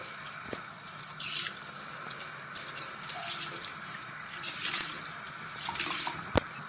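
Half a kilo of rice tipped into a pot of salted water for boiling, giving several bursts of pouring and splashing water with soft wet rustles, close by and moderately loud, with no talk.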